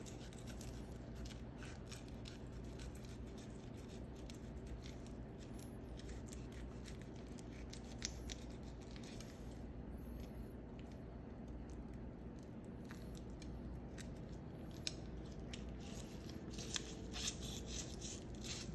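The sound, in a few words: knife cutting into a fish to fillet it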